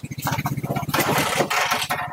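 A Vespa scooter engine is kicked over and catches, settling into a steady, close putter of rapid regular pulses that grows rougher and louder as it revs.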